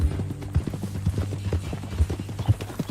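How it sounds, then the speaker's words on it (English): Horse hooves clip-clop at a steady walking rhythm in Red Dead Redemption 2, close and clear, with a low steady hum beneath and no talk over them. "That a new horse?"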